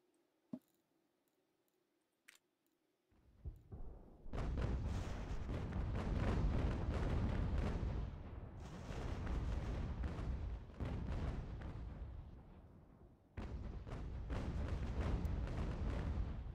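Cannons fire in an American Revolution battle video game: a few sharp distant cracks, then long, loud, rolling volleys of booming artillery that pause briefly and resume.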